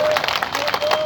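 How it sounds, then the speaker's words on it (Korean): Applause from the audience at a party podcast event, a dense wash of claps filling the short moment, steady and fairly loud with a faint voice underneath. "큰 박수 주시고"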